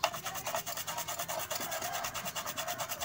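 The water-damaged circuit board of a rechargeable electric fan is scrubbed with rapid, rhythmic back-and-forth rasping strokes, close and steady, each stroke a brushy scratch repeating several times per second, with no speech.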